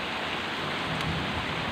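Rain falling at night in a street, a dense steady hiss of downpour with a faint low rumble underneath, constant and fairly loud throughout the brief stretch.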